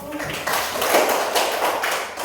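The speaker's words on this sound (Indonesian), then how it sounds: "beri tepuk tangan untuk kelompok 1" A classroom of students applauds a group of classmates with a dense, soft patter of clapping that runs steadily for about two seconds, mixed with faint voices.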